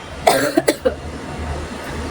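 A woman with a cold coughs several times in a quick cluster, one harsh cough followed by a few shorter ones, then quiet background hum.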